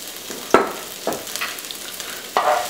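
Ginger and garlic stirred in a hot pan, three or four sharp scraping strokes over a faint crackling sizzle, close and fairly loud.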